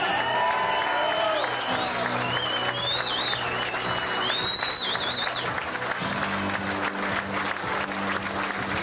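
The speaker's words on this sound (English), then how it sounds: "give him a round of applause, Pete Rose" A crowd at a Little League banquet-style event applauds Pete Rose with sustained, full clapping, marked by whistles and a few cheers rising above it, holding steady for several seconds.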